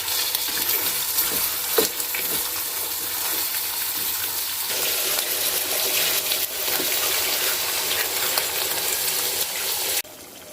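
Chicken frying in oil for a tomato chicken karahi, a loud continuous close sizzle with occasional stirring knocks, cutting off abruptly near the end.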